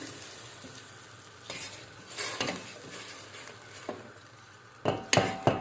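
Flour is stirred into hot water and oil in a pot while making malağ köle dough, with a faint steady sizzle under occasional scraping strokes and a few sharper clinks of the spoon near the end.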